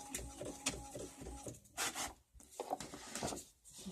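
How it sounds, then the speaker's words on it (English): A printer feeds and prints on cardstock, faint, with a whirring mechanical passage and a few tonal hums early on, then soft scrapes and shuffling paper movements, close and quiet. "I'm printing mine on cardstock so that it'll be good for painting the watercolors onto."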